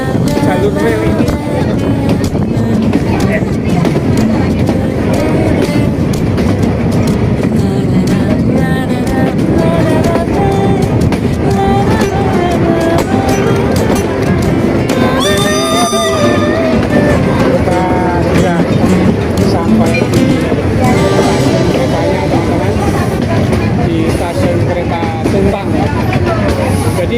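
Steady rumbling ride aboard the Ambarawa steam train heading to Tuntang, with continuous rolling and wind noise filling the scene and people talking over it throughout.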